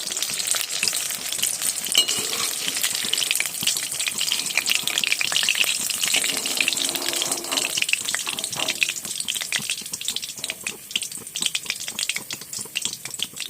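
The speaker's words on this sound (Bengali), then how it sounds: "এগুলো গরম তেলে ডুবো তেলে ভালো করে ভেজে নেবো" Fish chops deep-frying in hot oil, a dense, loud, continuous bubbling sizzle with fine crackles throughout, close and steady, no one speaking.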